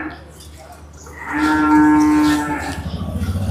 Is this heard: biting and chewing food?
no